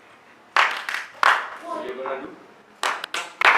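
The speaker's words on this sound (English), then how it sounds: "Give us one clap each, okay? One clap." Several sharp single hand claps ring out one at a time from children at a climate summit, interleaved with an adult speaking between them.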